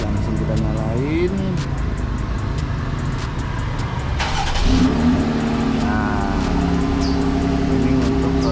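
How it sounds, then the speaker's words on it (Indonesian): A Jeep Gladiator with its stock exhaust runs at a low, fairly quiet steady idle close by, with someone talking over it partway through. "Nah, ini untuk suara knalpot standar."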